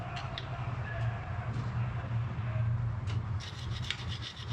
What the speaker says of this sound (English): Clean off the mating surface here.